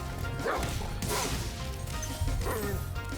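Dogs barking in the video game Spyro 1, sharp game-sound yaps and impacts repeating in quick bursts over steady background game music.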